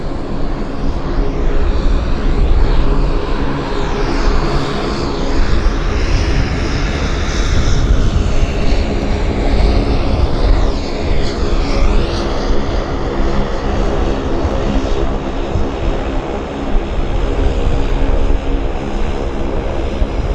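A propeller airplane lands at Vancouver Airport with a loud, sustained engine drone and roar, close and steady throughout, the pitch sweeping slightly as it passes, with no voices over it.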